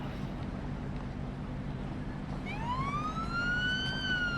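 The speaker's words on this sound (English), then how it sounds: "Let's see how the ambulance respond to this." An ambulance siren in the Police Simulator: Patrol Officers game starts partway through and rises in a clear wail over a low engine and traffic rumble, growing nearer and louder.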